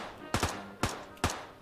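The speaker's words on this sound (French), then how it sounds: "non, ça tire au-dessus" Three separate loud gunshots spaced roughly evenly apart, each a sharp crack with a short tail, fired overhead in the video game Ring of Elysium.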